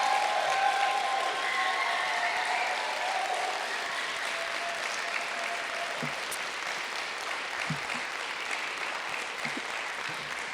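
Audience applause for youth poets at a county poet laureate celebration, a broad, steady crowd clapping that carries on evenly throughout, with a few faint knocks and bumps underneath.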